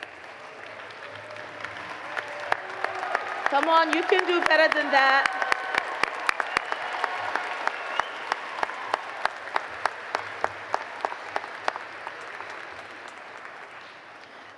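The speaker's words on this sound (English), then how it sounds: "Let's stand and give them a rousing applause" A standing college commencement audience applauds in a long, even wash of clapping, with a few sharp nearby claps cutting through; a voice calls out briefly over the noise partway through.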